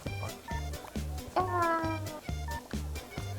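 A cat meows during a session of the cooking game Overcooked!, one drawn-out rising meow over steady rhythmic game music, with voices nearby.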